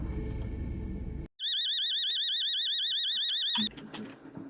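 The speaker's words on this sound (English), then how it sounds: "Oh my god, what an annoying fucking alarm." A loud, harsh electronic alarm cuts in after a burst of noise, warbling in a steady rapid pulse for a couple of seconds before stopping abruptly as muffled room sounds return.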